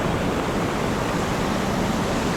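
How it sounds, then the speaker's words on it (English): A man-made waterfall at Silwane Nature Reserve near Bulawayo pours continuously, a broad steady rushing roar heard up close with no voices over it. "This is the waterfall,"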